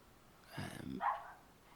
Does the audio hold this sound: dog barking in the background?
yes